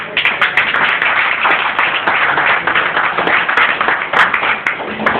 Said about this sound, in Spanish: Den un aplauso al Rey en esta mañana.